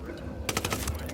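Automatic gunfire in the shooter game Tom Clancy's Ghost Recon Wildlands: a sharp, loud burst of several rapid shots rattling off in quick succession after a brief quiet stretch.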